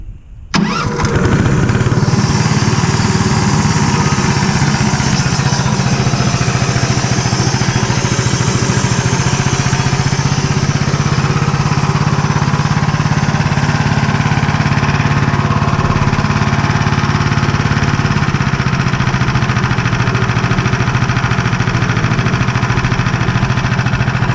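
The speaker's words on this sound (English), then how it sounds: "you can tell the alternator's charging because it'll pull the motor down" A sawmill's engine starts and settles into a loud, steady run while milling white oak, its pitch dipping slightly as the alternator begins charging, continuous and close with no talk.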